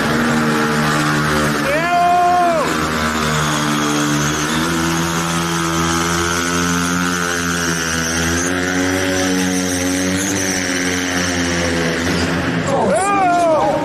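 Motorcycle engine at a stunt show at a motorcycle trade fair, held at a loud, steady drone with two sharp revs near the start and end, close and dominant, with voices faintly beneath.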